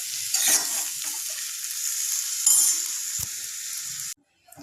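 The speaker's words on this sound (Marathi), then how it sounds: "व्यवस्थित मिक्स करून द्यायची आहे आणि दहा मिनिट ही शिजू द्यायची आहे" Boiled potato sabzi sizzles steadily in a hot pan, with a few stirring scrapes and brief swells of frying noise, then cuts off abruptly near the end.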